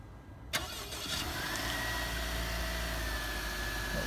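A 2018 Honda Accord EX-L with a 2.0-liter turbo engine starts by remote, a sharp crank catching at once and settling into a steady, even idle, heard from close by with no talk.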